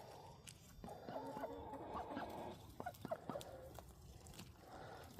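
Backyard chickens cluck softly while being fed wild tomatoes, with several short clucks and pecking noises near the middle of the clip, quiet and close, and no speech.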